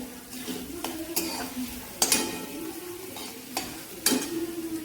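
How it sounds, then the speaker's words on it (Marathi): Onion sautéing in a pan, with a steady soft sizzle under repeated stirring and occasional clinks of a spoon against the metal pan, no talking. "आपल्याला मिळेल ते कांदा परतून होतोय"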